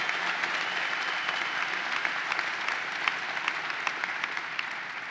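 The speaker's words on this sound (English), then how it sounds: "Let's give Van Robinson a great round of applause." An audience at the New York State Fair opening ceremonies claps for Van Robinson, a dense, sustained round of applause from many hands with no voices over it.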